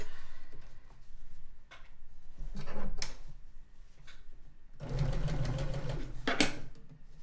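A sewing machine runs in short bursts of stitching, with pauses and small clicks between runs; close and moderately loud.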